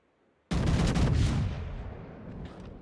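Heavy battleship main guns fire in the World of Warships naval game, a sudden loud thunderous salvo that booms for about a second, then a long rumbling decay.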